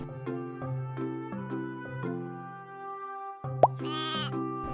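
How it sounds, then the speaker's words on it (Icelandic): A lamb gives one short, clear bleat over a gentle, bouncy background melody with plucked notes. "Lamb."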